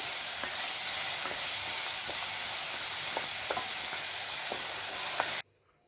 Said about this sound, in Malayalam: കഴുകിയ വെള്ളം വലിയുന്ന വരെ നമ്മളൊന്ന് വറക്കും